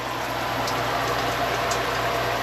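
A high-pressure shower head on a camping trailer sprays water in a steady, dense hiss that holds constant throughout, close and fairly loud.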